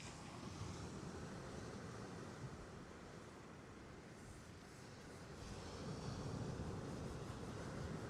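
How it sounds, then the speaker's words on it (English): Stormy sea waves rolling onto the shore at Trimingham, a continuous broad wash of surf that swells louder toward the end, heard alone without talk. "Got some quite decent waves rolling in now."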